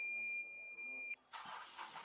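A car engine is started with the key. A steady warning chime sounds first, then the engine catches and settles into a rough, continuous running noise, heard close and fairly quiet.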